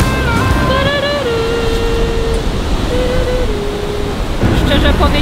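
Ocean surf crashes against the rocky shore by Tanah Lot temple in Bali, a steady roaring wash of waves mixed with gusting wind noise, with faint voices and tonal sounds drifting in the background.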